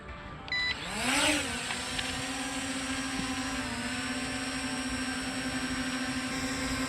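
MJX RC MG-1 drone propellers spin up for an automatic takeoff, a rising whine that climbs in pitch and then holds as a steady, close buzzing hum.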